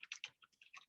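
Rapid keystrokes on a computer keyboard, about eight quick clicks in an uneven burst, close and fairly quiet with no voices.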